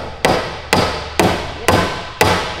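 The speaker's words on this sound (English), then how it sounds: "Go ahead and start my nail." Hammer driving a nail into a wooden stud during wall framing, five sharp ringing blows at an even pace, close and loud with brief decays between strikes.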